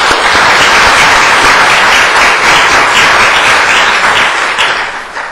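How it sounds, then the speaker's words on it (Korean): A church congregation breaks into dense, sustained applause during a worship service, loud and continuous, tapering off slightly at the end. "우리 박수 한번 합시다."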